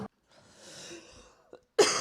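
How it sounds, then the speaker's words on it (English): A person trying to quit smoking lets out a short, raspy cough burst at close range, preceded by a faint breathy rasp, with quiet room sound between the bursts and no talking. "you might be wondering why my coughing is getting worse"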